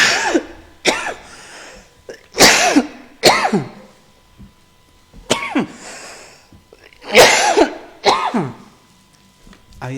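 A preacher coughs repeatedly in a church service, about eight sharp, raspy bursts in irregular clusters with short quiet gaps between them, close and fairly loud.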